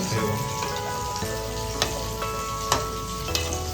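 Fish pieces frying in oil in a pan for a Marathi-style fish dish, a steady loud sizzle close by with a few sharp pops and crackles spaced through it.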